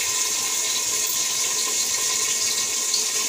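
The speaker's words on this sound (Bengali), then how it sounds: "আর এখানে আমি মাংসটা ধুয়ে নেবো, ভালো করে একবার দুইবার ধুয়ে নিয়েছি, আবার দুবার ধুয়ে নেবো।" Running tap water pours steadily over raw chicken pieces being washed in a kitchen, a constant close rushing hiss with no talk.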